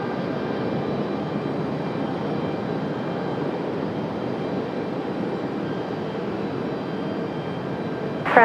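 A Frontier Airlines jet in grizzly bear livery, named JoJo, gives off a steady, moderately distant engine rumble and hiss that stays even throughout, with a brief louder bump right at the end.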